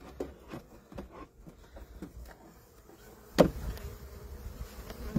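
Honey bees buzz steadily around an opened beehive while its frames are pried apart, with scattered soft knocks and one sharp crack near the middle.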